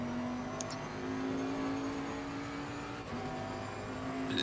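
A Mercedes race car engine in Assetto Corsa Competizione, a steady droning whine holding a near-constant pitch with a slight rise at the end, loud and continuous without voices.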